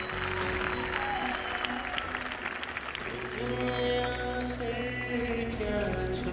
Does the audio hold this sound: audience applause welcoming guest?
yes